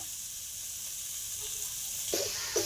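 Spices and vegetables sautéing over medium heat in a pan, a steady close sizzle and hiss throughout, with a couple of brief stirring knocks near the end.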